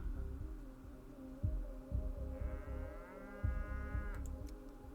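A bull moos inside the video game Pathologic 3, drawn-out low lowing calls repeating over a steady throbbing, pulsing ambient drone, with a rising tonal sweep partway through.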